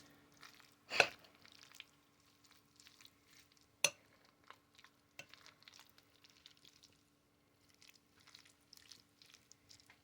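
Potato salad being mixed in a bowl gives faint, scattered scraping and clinking, with two sharper knocks early on, then soft irregular stirring sounds in a quiet room.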